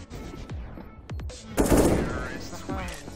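Gunfire in the CS:GO video game during a bomb-planted round: several sharp, close shots in the first second, then a louder burst of rapid fire mixed with game sounds and voices.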